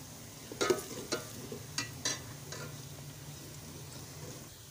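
Onions frying in a pan for a village-style bhindi dish, with a low steady sizzle under a handful of sharp stirring scrapes and clinks near the start, then settling to a quiet continuous fry.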